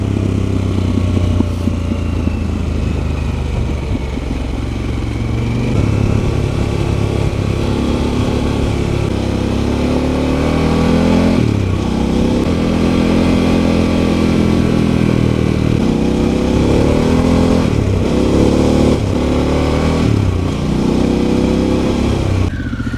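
A Harley-Davidson Pan America motorcycle on Pirelli Scorpion Rally STR tyres rides along a road. Its engine drones loud and steady throughout, the pitch rising and falling as it shifts and revs, with wind rush over the top.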